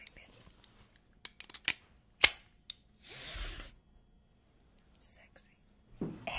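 A vintage 1963 seatbelt buckle snaps shut with a few crisp, sharp clicks up close, followed by a sliding rustle of strap, with whispering nearby.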